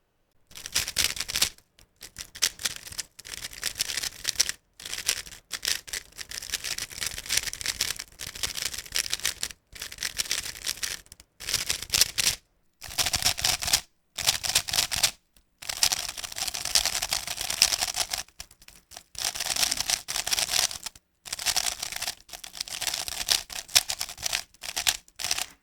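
Rapid plastic clicking and clacking in quick bursts separated by short pauses, a magnetic Gan 16 Maglev Max speed cube being turned fast, close up with no talking.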